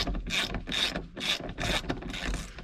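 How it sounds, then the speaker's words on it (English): Hand ratchet working 12mm bolts loose on the e-brake bracket of an AWD B-series Honda Civic, four or five rapid clicking bursts in quick rhythm, close and alone. "you want to loosen up these 12mm bolts here. To release the bracket that holds them"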